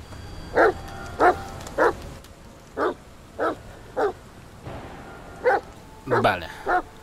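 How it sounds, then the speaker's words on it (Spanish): A dog barks in the video game The Medium, a series of about ten short, evenly spaced barks with a couple of whimpering yips near the end, loud and close. "encontramos un perrito que nos trae un zapato, como buen perrito"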